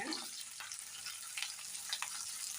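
Coriander seeds and green chilies fry in a pan, giving a faint, even sizzle with a few soft crackles, close by and steady with no talking.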